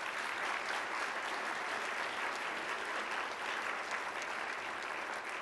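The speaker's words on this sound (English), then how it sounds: "a round of applause." Audience applause fills a conference keynote hall for a biographers' gathering in Boston, a continuous, even wash of many hands clapping at moderate volume with no voices on top.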